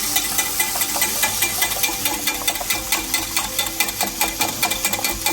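Eggs are whisked by hand in a bowl for a quick breakfast dish, producing a fast, steady run of light clinking strokes that keeps an even rhythm throughout with no talking.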